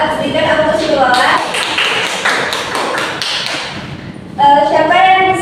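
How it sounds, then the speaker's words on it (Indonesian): A short burst of classroom clapping rings out to reward a student's correct answer, several pairs of hands applauding close by for a few seconds before a voice speaks again. "Berikan aplaus untuk Lola."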